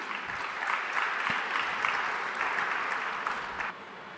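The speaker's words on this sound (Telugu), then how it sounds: "చప్పట్లు కొట్టి దేవుని స్తుతిద్దాం" A church congregation claps hands in praise, a dense, steady round of applause with a lively, even rhythm that fades slightly near the end.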